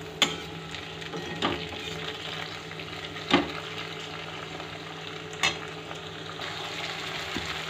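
Tomato frying with browned onions in oil gives a constant close sizzle, punctuated by four sharp knocks of a spatula against the pan at irregular intervals, with no talking.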